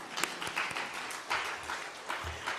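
Audience applause at an evening church revival gathering, a short burst of crowd clapping that swells and dips in a few waves over two and a half seconds, with no talking over it.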